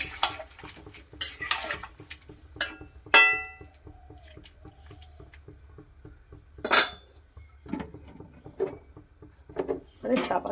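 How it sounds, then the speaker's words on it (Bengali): A jackfruit curry is stirred in a pot with water added, giving scattered clinks and scrapes of a utensil against the metal, some louder knocks among softer taps, with a voice speaking in between. "ভালো করে নেড়ে দিই।"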